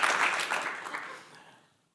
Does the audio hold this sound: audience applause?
yes